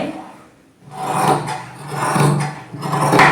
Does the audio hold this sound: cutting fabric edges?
yes